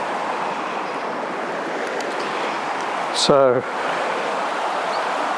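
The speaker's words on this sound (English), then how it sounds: "you can hear there the river." A river flowing nearby on a countryside dog walk, a steady broad rushing wash running throughout, with a brief spoken word over it.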